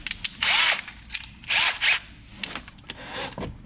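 A power drill bores into a car's bodywork with an unused drill bit, whining in three distinct bursts with pauses between, close and fairly loud, no voices.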